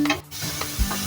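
Chicken and peas sauté in a pan for matar gosht, a close, loud continuous sizzle with a few soft stirring scrapes, no talk.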